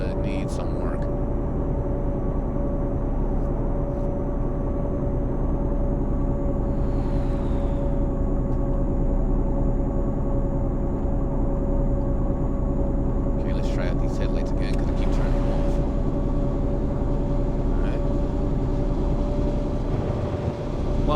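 Volvo 670 truck engine in American Truck Simulator: a steady, low, droning hum with a constant tonal whine, running evenly throughout, with a few faint clicks and someone speaking over it.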